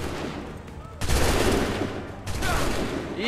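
Soldiers' musket volley in Assassin's Creed 3: two loud, crackling broadside bursts of massed gunfire, the second about a second after the first, each rolling on briefly over battlefield noise.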